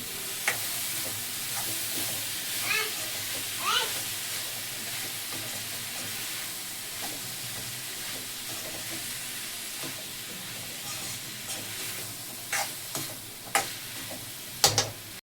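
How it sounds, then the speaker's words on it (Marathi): Mixed vegetables stirred in a hot pan, with a soft, steady frying hiss and occasional scrapes and knocks of the spoon, growing sharper toward the end. "भाज्या टाकते आता मी. चांगलं मिक्स करून घेते."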